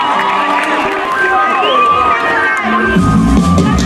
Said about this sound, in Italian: Ragazzi, l'applauso forte per Herman